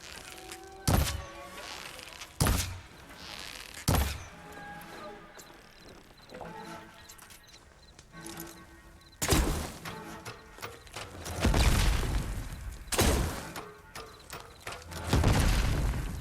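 Explosions of a weapons cache in Horizon Forbidden West, heard as several heavy booming bursts spaced through the stretch, with the later ones rolling and sustained, set against in-game ambience and a voice talking.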